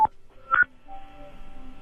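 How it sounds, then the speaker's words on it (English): An iPhone gives off odd tones: two short beeps in quick succession, then a faint, wavering hum trailing behind, heard close and with nobody speaking. "Listen to Jimmy's phone"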